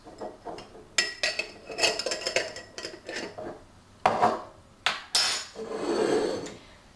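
A teaspoon clinks and scrapes against a ceramic teapot as a heaped spoonful of dried chamomile goes in, a series of sharp close taps and clatters with a brief rustle near the end.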